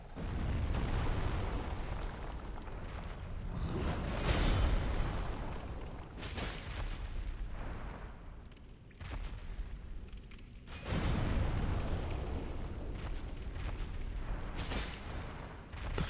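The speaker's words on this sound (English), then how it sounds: "I accidentally do the explosion." Deep, rumbling explosion blasts from a Dark Souls boss fight, several broad booming bursts swelling and fading over sustained low roar, with no talking.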